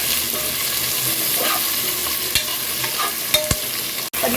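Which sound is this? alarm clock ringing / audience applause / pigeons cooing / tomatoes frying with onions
tomatoes frying with onions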